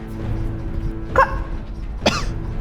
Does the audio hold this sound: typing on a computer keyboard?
no